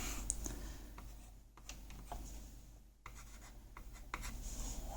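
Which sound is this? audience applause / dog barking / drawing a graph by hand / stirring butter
drawing a graph by hand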